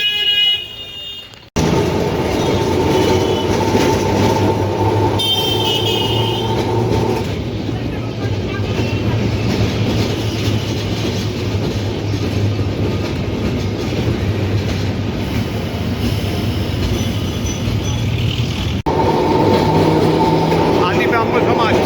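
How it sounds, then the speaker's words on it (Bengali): A Kolkata tram runs with a steady rumble and rhythmic clickety-clack of wheels on rail, loud and close, with faint voices beneath and a brief quiet patch near the start. "আর একটু যাবে, তারপরে ট্রাম দাঁড়িয়ে পড়ল"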